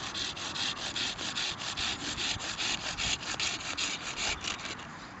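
A hand saw cuts through a wooden peg held against a tree outdoors, with fast, even rasping strokes repeating close and loud throughout.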